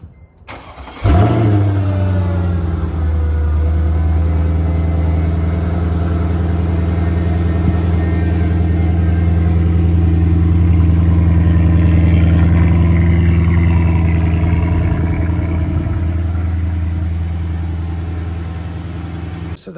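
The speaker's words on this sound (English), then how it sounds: "So that was the 55's cold start" An aged Mercedes 55 engine cold-starts with a sharp crank and catch, then settles into a loud, steady rumbling idle up close that slowly fades toward the end.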